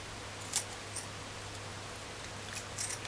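Kitchen scissors snip through chicken feet in a few sharp, isolated clicks spaced apart, fairly faint over a steady low hum in a quiet room.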